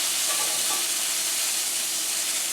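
Summer fluke fries in olive oil in a cast iron skillet, giving a continuous, even sizzle and hiss close by with no talk.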